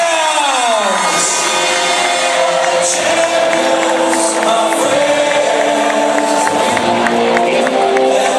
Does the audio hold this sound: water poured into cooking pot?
no